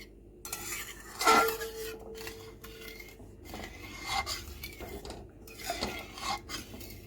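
A spoon stirs masala paneer gravy in a pan after hot water has been added, giving several close scraping and clinking bursts against the metal with quiet pauses between them.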